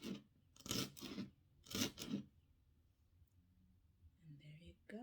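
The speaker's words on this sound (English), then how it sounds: "today with this recipe I'm going to be cutting up the stems very fine" Knife chopping herb stems very fine on a cutting board while making Italian ravioli, a few quick rhythmic bursts of close cutting followed by quiet handling, faint overall.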